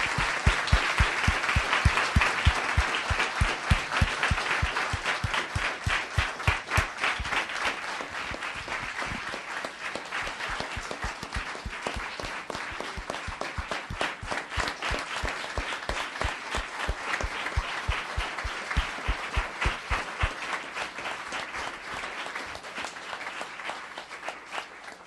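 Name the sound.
audience applause for the mayor at a town council meeting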